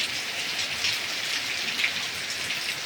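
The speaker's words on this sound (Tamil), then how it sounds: "பார்த்தீங்களா எவ்வளோ மழை பெய்யுதுன்னு. பட்டையான மழைங்க." Heavy rain pours steadily and close by, a dense, even hiss of drops hitting surfaces for the whole stretch, with no voices.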